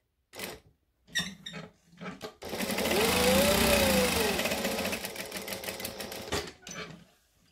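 A sewing machine stitches a shoulder bag in a steady, rapid whir lasting several seconds, with short bursts of stitching before it and a few clicks at the end.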